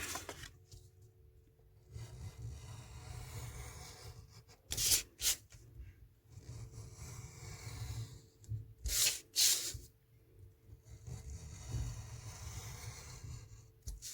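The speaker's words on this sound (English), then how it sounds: "I'm just going to use my craft knife to cut that out" A blade scrapes and slices through paper in short rasping strokes, with quiet pauses between the cuts and no talking.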